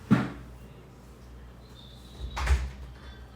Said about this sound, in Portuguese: a minha cachorra está aqui batendo na porta pedindo para entrar